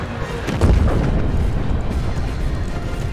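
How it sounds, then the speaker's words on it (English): Artillery fire in the Mecha Knights: Nightmare battlefield, a deep heavy boom followed by a sustained rumbling roar that fills the whole moment. "They are coming after me today. In between the artillery firing."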